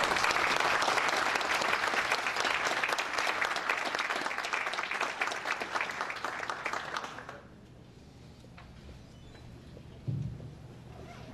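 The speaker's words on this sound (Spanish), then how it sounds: "Por favor, aplausos fuertes." A conference audience at an optometry congress applauds loudly and densely for about seven seconds, then the clapping breaks off, leaving a quiet room with a single brief knock near the end.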